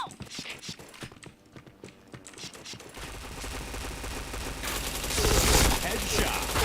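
Rapid automatic gunfire rattles in a first-person shooter game, starting as sparse clicking shots and then turning into a dense, loud continuous volley that swells toward the end.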